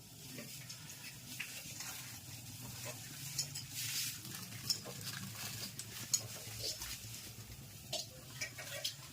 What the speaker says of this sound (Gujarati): તૈયાર પૂરી આવે પછી આપણે ઘરે તળવાની